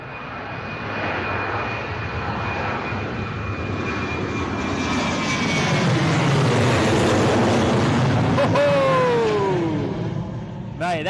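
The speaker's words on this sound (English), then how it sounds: "Jet 2, Boeing 737 in the holiday livery. Heading out to Malaga. Overhead departure, crosswind as well." A Jet2 Boeing 737 in holiday livery departs overhead in a crosswind, its jet engines roaring loud and close in a steady swelling rumble that peaks and then fades, with a passing car and brief voices near the end.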